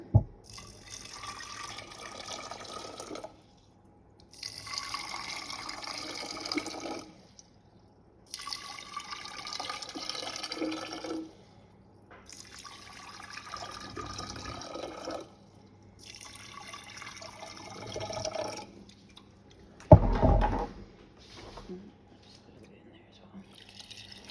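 Cold water runs into a 2-litre jar of fermenting tomatoes in several separate bursts with short pauses between, the pitch rising as it fills, followed by a brief knock.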